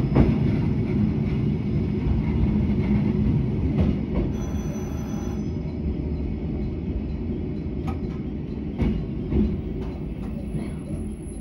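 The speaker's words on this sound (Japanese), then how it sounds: "線形がいいため100キロオーバーで走行していきます。" Electric train running at over 100 km/h on a straight stretch of line, heard from on board as a steady loud rumble of wheels on rail with a few faint clicks and a thin high whine.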